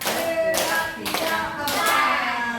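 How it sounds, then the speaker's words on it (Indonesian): A group of teachers claps out a rhythmic patterned cheer in a classroom-style session, sharp bursts of hand claps in several quick phrases separated by brief pauses. "Kita beri tepuk segi 4 buat Bu Tiara"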